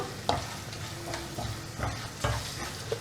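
Spices such as turmeric, salt and garam masala being stirred into a frying dosa masala in a pan, with scraping spoon strokes and a soft steady sizzle underneath, close and fairly quiet.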